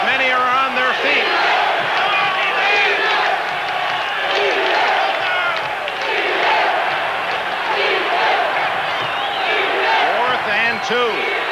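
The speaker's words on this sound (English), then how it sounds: "Listen to this crowd as many are on their feet." A packed stadium crowd roars continuously at a 1984 NFL game between the Los Angeles Raiders and Kansas City, a loud sustained wall of cheering with a broadcast announcer talking over it.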